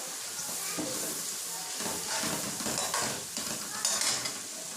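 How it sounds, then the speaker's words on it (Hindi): Peas and potatoes fry in a pan with a steady sizzle while a spoon stirs through them in repeated scraping strokes, close and continuous. "अब इसके डाल रही हूँ मटर और साथ ही मैं इसके मटर 1-2 दफ़ा चम्मच हिलाने के बाद ऐड कर दूँगी"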